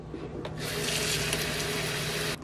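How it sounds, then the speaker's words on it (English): Water pours steadily onto potted houseplants, a continuous splashing rush lasting about two seconds that then stops abruptly, with no voices. "so I'm gonna add some water as well."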